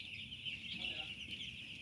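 Chickens in a coop cluck softly and faintly at a distance, a steady hum of fowl chatter running through the whole stretch with no voices over it.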